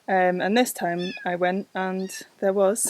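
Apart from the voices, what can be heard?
young kitten meowing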